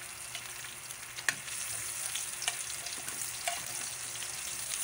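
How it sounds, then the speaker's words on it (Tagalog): Onion and garlic fry together in a pan for chicken afritada, giving a soft, continuous sizzle with faint crackles and occasional light clicks from stirring, fairly quiet and without voices. "Ayan natin ang ilalagay yung sibuyas bawang natin."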